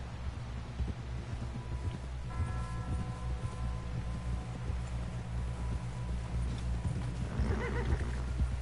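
Horse hooves clip-clopping at a run in Red Dead Redemption 2, with an occasional whinny, carried over a steady low rumble of game ambience, close and continuous throughout.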